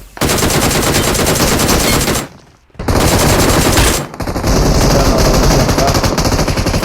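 Automatic gunfire in PUBG Mobile, very loud and close: rapid sustained bursts that break off briefly into near silence before a second long burst resumes.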